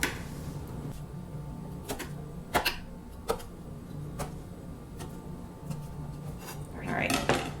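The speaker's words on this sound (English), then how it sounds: "I'm also just gonna cut up my figs a little bit" A knife cuts up figs on a cutting board, making sparse, crisp taps and clicks spaced a second or so apart under a quiet room background.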